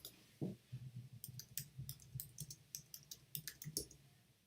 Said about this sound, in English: I'm just typing as I'm like talking